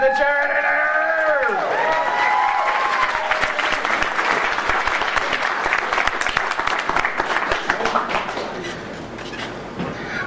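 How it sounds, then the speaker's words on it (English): Convention crowd at a furry convention stage show applauds for a pet charity representative, loud and steady with some cheering, a voice speaking over the opening seconds before the clapping fades slightly. "a round of applause for the charity!"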